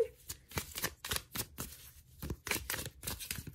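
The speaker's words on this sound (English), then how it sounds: "Let's pull out some cards using the Shadowscapes Tarot." Shadowscapes tarot cards are shuffled close by in quick bursts of crisp riffling and flicking, with short pauses between bursts.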